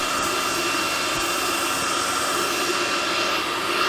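Steady, close roar of the two helmet pumper fans running on a Polaris RZR Pro R, a continuous airy whoosh with an even whine and no breaks, with no voices.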